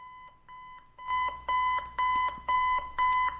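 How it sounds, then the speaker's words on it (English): An alarm clock rings in rapid repeated beeping bursts, starting softer and then growing louder in a steady pulsing pattern of about six loud chirps, close and alone. "The alarm. We're just gonna sleep through it."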